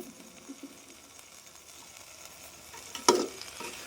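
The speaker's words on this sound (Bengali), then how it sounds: "আবারও এইভাবে নেড়ে চেড়ে মিনিট দুয়েক কষিয়ে নেব" Mutton frying in very little oil with chopped tomato and whole garlic cloves, a faint low sizzle with soft stirring scrapes, then a louder clatter of the spoon near the end.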